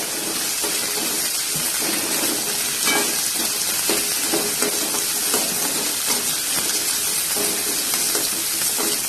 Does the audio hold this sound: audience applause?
no